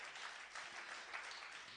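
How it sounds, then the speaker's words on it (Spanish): Applause from a church congregation during an evening worship service, a dense, steady patter of many hands clapping at moderate level with no break across the short stretch. "Dele un aplauso."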